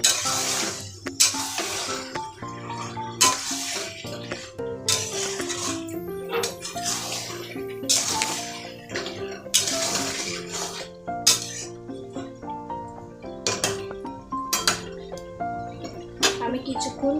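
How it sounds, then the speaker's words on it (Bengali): Potatoes and chicken stir-fried together in a pan for chicken kosha: rhythmic, repeated scraping and clattering strokes of a spatula against the metal pan, sounding close, over a steady tonal background like music. "এরপরে আমি আলুগুলো দিয়ে দেবো, দিয়ে ভালো করে কষাতে থাকবো।"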